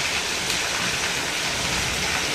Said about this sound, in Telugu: ఇంకా వర్షం అయితే మాత్రంగా చూసారా ఎంత గట్టి పడుతుందో